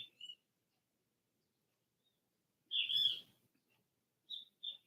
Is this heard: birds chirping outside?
yes